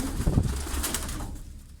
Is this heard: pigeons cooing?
yes